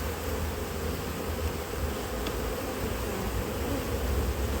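A colony of honeybees hums steadily around an open hive during autumn beekeeping work, a dense continuous buzz that stays even and close for the whole stretch with no talking.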